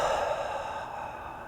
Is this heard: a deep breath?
yes